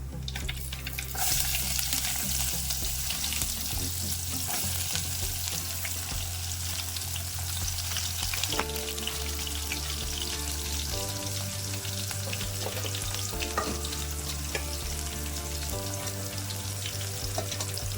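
Chopped onions sizzle steadily in hot oil in a pan for a homemade chicken curry, with a constant loud frying hiss and periodic scraping as they are stirred.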